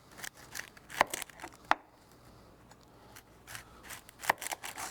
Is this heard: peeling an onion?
yes